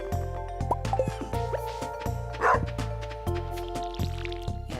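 Small dogs bark in Stardew Valley, several short yapping barks spread across a few seconds over steady looping game music, with no talking.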